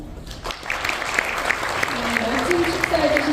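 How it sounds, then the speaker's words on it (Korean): Audience applause at a formal forum opening ceremony following a congratulatory speech, a dense steady clapping that swells slightly and continues throughout, with a voice speaking over it toward the end. "멋진 축사해주신 장군의 대리님께 다시 한번 뜨거운 박수 부탁드립니다"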